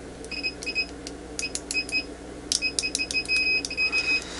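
Continuity beeper of a UNI-T UT8805E 5½-digit bench multimeter: a series of short, clear electronic beeps in irregular bursts, some quick chirps and some longer tones, heard close over a low steady hum.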